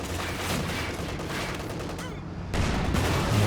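Panzer IV tank gunfire in Company of Heroes 2 lands amid a dense rumble of battle, with booming shots and crackling fire all the way through and a louder burst toward the end.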